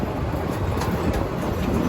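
The Meghna Express pulls away from Hajiganj railway station, a steady loud rumble and rattle of rolling rail cars heard from on board, with no speech.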